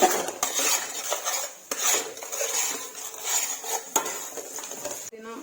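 Ginger garlic paste fried in a pan for chicken biryani, heard as repeated metal spoon scrapes and clinks against the pan with a faint sizzle underneath, close and busy, ending in a brief clatter.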